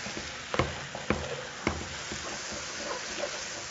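Onions cooking down for French onion soup sizzle steadily in a pan over medium heat, a soft continuous frying hiss broken by a few louder crackles and stirring clicks.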